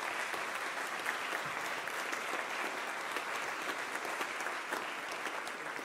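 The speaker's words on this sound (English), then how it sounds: "give this chapel and alumni choir a round of applause this morning" Congregation in a university chapel applauding the chapel and alumni choir at a homecoming worship service, steady dense clapping from a crowd, moderately distant and even throughout.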